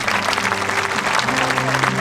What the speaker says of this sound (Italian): le facciamo intanto un bel applauso